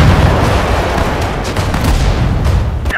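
Tank and artillery gunfire from the Battle of Kursk in the video game Sudden Strike 4, a loud, dense barrage of booms and rumbling blasts running continuously to a sharp burst at the end.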